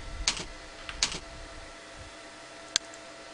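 Keys on a computer keyboard click while code is typed for a Visual Basic picture puzzle game: two short bursts of keystrokes near the start, then quiet, then a single sharp tap, all close and with no voices.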